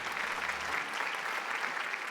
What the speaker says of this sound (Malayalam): നല്ല കയ്യടി കൊടുത്തേ, നിങ്ങളുടെ കൂട്ടുകാരിയല്ലേ.